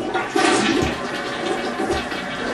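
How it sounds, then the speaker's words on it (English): A toilet flushes loudly and close by, a rushing surge of water that swells after a moment and keeps running steadily, then settles into a refilling wash. "Someone didn't flush the toilet!"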